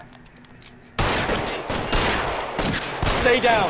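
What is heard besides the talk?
gunfire in the video game L.A. Noire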